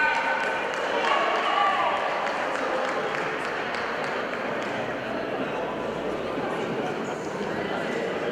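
A crowd at a club basketball championship final applauds the coach, a sustained wash of clapping and cheering that fills the arena, with voices mixed in.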